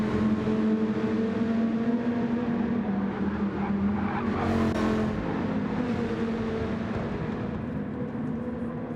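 Race cars lap Laguna Seca in a racing video game, with a steady, loud engine drone throughout and a brief whooshing swell midway as a car passes close. No voices.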